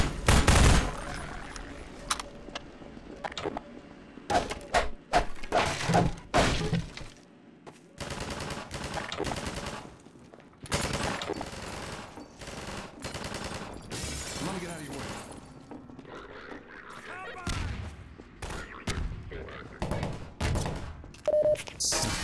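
Gunfire and shelling in the shooter Half-Life 2: repeated sharp bursts of shots and heavy thuds, loud and close, in irregular clusters over a busy combat background, with someone talking at times.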